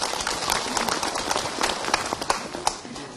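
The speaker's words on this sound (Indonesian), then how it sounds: "Tepuk tangan buat Kak Anes." An audience at an Islamic religious gathering claps for a speaker about to give a sermon, a lively scattered applause of many hands with sharp individual claps standing out, fading slightly toward the end.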